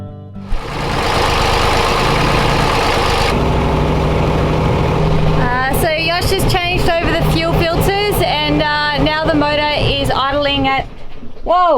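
A sailboat's diesel engine running at a high idle, a steady loud drone throughout, with a person speaking over it in the second half.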